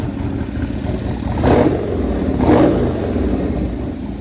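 A 1996 Buell S1 Lightning motorcycle engine idling with a rough, steady rumble, swelling twice in brief throttle blips, close and loud.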